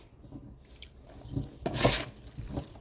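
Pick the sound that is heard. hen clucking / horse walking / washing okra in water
washing okra in water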